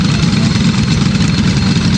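An LO206 kart engine revs loudly up close at Orlando Kart Center, a raw, buzzing small-engine roar that stays at a steady, pulsing level without any voices.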